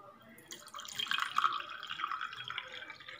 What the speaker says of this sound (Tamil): ஓகே, இந்த அளவுக்கு வாட்டர் ஊற்றிக்கலாம்.